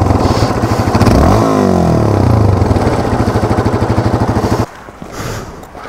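Motorcycle engine fitted with a new aftermarket exhaust pipe, loud and close, idling with rapid pulsing putter then revving up and down before cutting off abruptly near the end, leaving quieter background.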